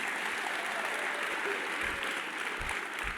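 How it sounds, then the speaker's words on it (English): Steady, moderately distant audience applause fills a hall at the Virginia Sports Hall of Fame 2024 induction ceremony, a continuous wash of clapping throughout. "I think that's worthy of a round of applause."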